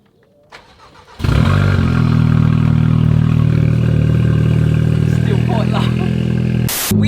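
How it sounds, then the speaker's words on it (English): A Volkswagen Scirocco engine cranks and starts with its exhaust tips covered by a box, settling into a loud steady muffled idle hum close by, with a brief clatter near the end. "And then we start the car. And it should be a lot less loud."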